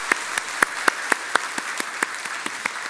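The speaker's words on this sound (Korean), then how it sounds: "우리 박수로 한번 환영합시다" A church congregation breaks into applause during a Sunday service after a baptism announcement, a moderate, steady wash of many hands with a few sharper individual claps standing out.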